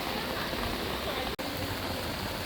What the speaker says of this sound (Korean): 비가 오기 시작합니다.